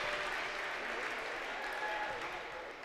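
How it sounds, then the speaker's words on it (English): Steady applause from a basketball crowd at a women's college game against Lander, rising for a player checking out after a strong night off the bench, with no gaps and a slight fade at the end. "And a nice round of applause."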